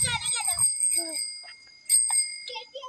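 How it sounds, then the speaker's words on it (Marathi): A child's bicycle bell rings with a sustained metallic chime that carries through the clip, struck again partway through, while children's voices chatter over it. "कशी घंटी वाजवायची"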